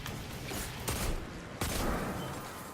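Gunfire from the video game Destiny 2 crackles in a dense, steady burst with a couple of sharper shot peaks, moderately quiet and continuous throughout.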